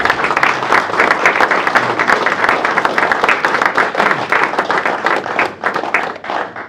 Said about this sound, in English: I wasn't trying to get a round of applause